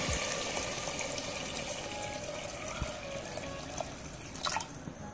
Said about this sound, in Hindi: मैं 4 गिलास पानी शामिल करूंगी।